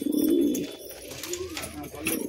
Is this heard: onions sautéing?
no